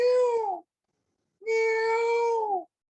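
A human voice imitates peacock calls with two drawn-out, nasal, meow-like cries. A short first cry is followed after a pause by a longer second one, both loud, close and clear against silence.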